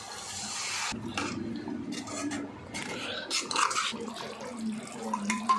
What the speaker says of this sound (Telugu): ఇది ఇప్పుడు కొంచెం వాటర్ వేసేసుకుందాం